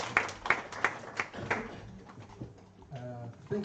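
A small online group claps after a vote is approved: five evenly spaced, fairly close claps, followed by quieter background sounds and a voice.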